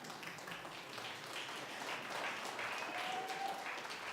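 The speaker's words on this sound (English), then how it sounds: "That's all right, you can clap." Concert audience at a Greenville University jazz band concert clapping, a soft, fairly distant wash of applause that builds slightly, heard alone without talk.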